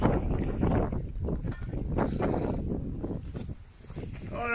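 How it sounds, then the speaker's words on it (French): Strong gusting wind buffets the microphone on a mountain summit at about 2000 metres in the Verdon, a steady roar that swells and dips while people talk close by. "Ah putain, le vent."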